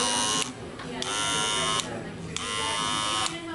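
A Wahl Cordless Senior hair clipper, just repaired at its on/off switch, buzzes loudly and steadily, cutting out and restarting several times in short bursts with a constant whine, while people talk faintly in the background.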